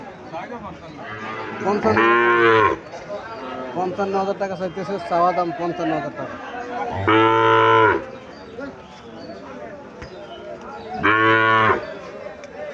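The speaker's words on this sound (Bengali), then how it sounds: "সাইওয়াল জাতের বাছুর, লম্বা ছোট আছে বাছুরটা" A Sahiwal calf at a cattle market moos three times, each call long and loud, spaced several seconds apart, while people talk throughout.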